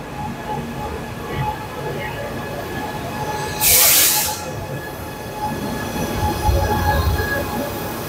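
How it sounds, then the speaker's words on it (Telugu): A metro train pulls into a station in Palermo with a low rumble and the clatter of its wheels, followed by a sharp burst of squealing brakes midway. Rolling noise from the train carries on quietly beneath it all. "ఇదే ట్రైన్."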